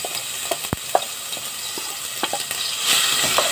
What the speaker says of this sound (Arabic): وهنزل بالقوطه والبصل اللي انا بشرهم